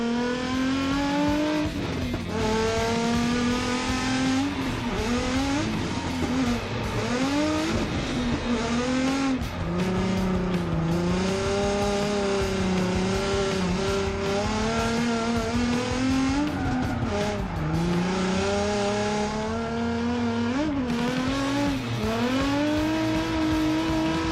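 A Nissan 350Z drifts a full lap on track, its engine howling and rising and falling in pitch with each transition, loud and continuous throughout with no talking.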